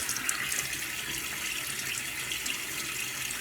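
Tap water runs steadily into a barbershop sink, a continuous close hiss and splash with no pauses and no voices.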